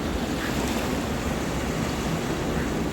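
Big ocean waves wash steadily onto the shore in a continuous, loud roar of surf, with wind buffeting the microphone throughout and no voices.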